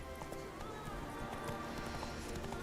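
Horse hooves clip-clopping at a steady gallop in The Witcher 3 video game, a continuous rhythmic patter under game ambience with a faint voice.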